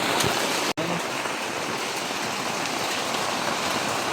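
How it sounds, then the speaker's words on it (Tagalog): Heavy rain pours down in a dense, constant roar, close and loud, inside a bamboo grove, with a brief cut in the sound near the start. "Sobrang lakas ng ulan."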